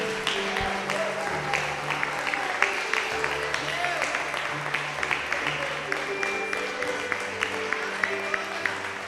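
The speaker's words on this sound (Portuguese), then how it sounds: "Aplauda o Senhor." Church congregation clapping during a Portuguese-language worship service, continuous crisp applause with a preacher speaking over it.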